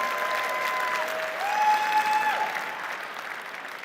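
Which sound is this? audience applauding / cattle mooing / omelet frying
audience applauding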